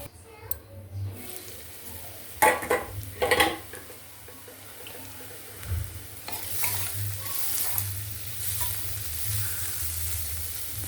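Onions fry in a pan on the stove for a flat-bean and tomato curry, a soft continuous sizzle broken by a few loud scraping stirs of a spoon against the pan, close and without talk.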